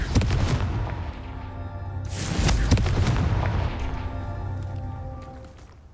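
A Confringo fire-spell blast strikes a rock in the game Hogwarts Legacy, giving a loud booming burst near the middle over a layer of game music and ambience, then fading out.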